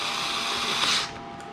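A power tool drives bolts through seat brackets on a Vanderhall Venice, sounding as a steady, close mechanical whir with a grinding buzz that peaks and then cuts off, leaving a quieter hum.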